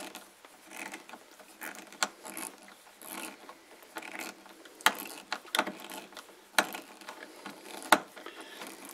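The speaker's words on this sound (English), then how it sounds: "As you continue to turn this screw, it'll pull that tab up to the back of the sheetrock and it'll hold it in place." Screwdriver turning a screw into a self-contained mobile home light switch, its tab drawing up against sheetrock; soft, quiet clicking and ratcheting scrapes with a few sharper ticks, close up and without talk.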